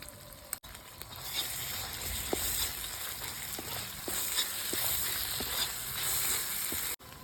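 Onion and garlic paste frying in a pan, a steady close sizzle with light clicks of stirring and a few scrapes, no talking.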